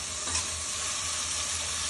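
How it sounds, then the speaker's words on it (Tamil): Salted onions fry in a pan for mushroom biryani, a dense continuous sizzle with a faint stirring scrape, close and even across a brief stretch, with no talking. "இப்போ வெங்காயம் நல்லா பொன்னிறமாக வதங்கிடுச்சு."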